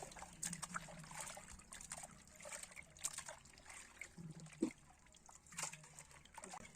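Water trickles and sloshes softly as goat intestines are swished and rinsed by hand, with small splashes coming and going.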